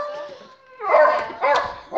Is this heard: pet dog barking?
yes